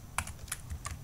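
Three quick computer keyboard presses for a shortcut during coding work in CodeIgniter 4, crisp, close and evenly spaced with no talking.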